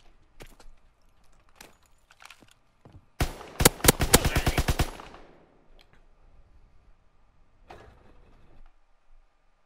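A grease gun fires a single rapid burst of automatic gunfire in Call of Duty WWII on the Shipment map, loud and close, with sparse quieter game sounds before and after.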